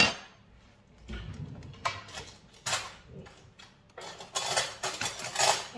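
A spoon stirs homemade natural deodorant ingredients in a small container, giving irregular clinks and scraping taps close up, with busier bursts of clatter toward the end.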